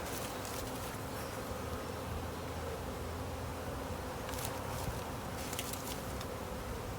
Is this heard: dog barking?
no